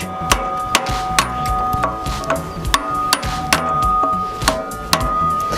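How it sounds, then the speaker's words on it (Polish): Sharp metallic strikes of a hammer driving a cold chisel into the muffler of a Zetor K25 / Ursus C-330 tractor, about a dozen close, ringing blows at an uneven, steady pace. "Mam tutaj przecinak i młotek. Mam nadzieję, że uda mi się to teraz ładnie rozciąć."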